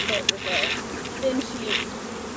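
Bees buzz steadily around an open hive on a bee farm, a dense, close insect drone with a few louder passes near the ear.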